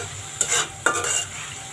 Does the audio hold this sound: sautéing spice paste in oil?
yes